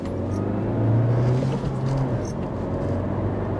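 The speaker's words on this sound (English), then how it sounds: "check out the acceleration of this vehicle" A 2024 Honda Civic Sport Touring hatchback with a manual gearbox pulls away from a stop, its engine a loud low rumble that swells briefly and then settles, heard from the cabin.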